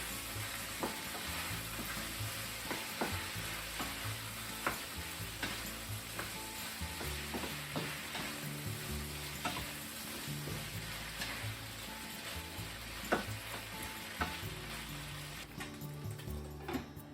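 Pork and eggplant sizzle steadily in a hot frying pan, with repeated scraping and clacking as they are stirred throughout; no talking.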